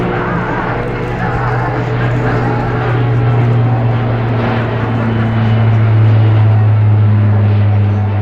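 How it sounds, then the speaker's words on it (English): An Alenia C-27J Spartan military transport of the Italian Air Force flying its airshow display, a loud, sustained turboprop drone that swells gradually as the aircraft maneuvers. "And now the crew is maneuvering the aircraft,"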